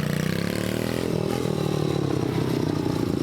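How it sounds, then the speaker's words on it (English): A broken LML Duramax diesel engine in a pickup runs close by with a loud, continuous rough clatter and drone that shifts in pitch partway through. "It's a broken Duramax."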